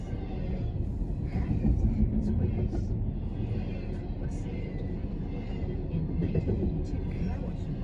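A CSX freight train rolls past at Fairport, a steady heavy rumble and clatter of rail cars close by, with people talking faintly over it.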